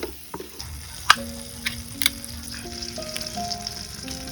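Butter and chickpea spices frying in a pan, a steady close sizzle with a few sharp clinks, no voices.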